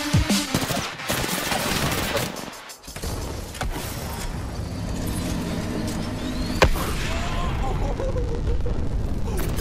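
Rapid automatic gunfire from a gun in the video game Apex Legends, a steady dense stream of shots mixed with game effects, with a voice talking over part of it.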